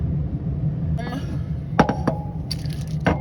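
Small glass cat-head charms clink together in a hand, a few bright, brief taps and jingles at close range over a steady low background hum.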